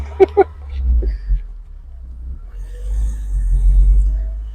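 A BMW E30 Cabrio pulls away, its low engine rumble growing steadily louder after a few sharp clicks and a brief murmur at the start.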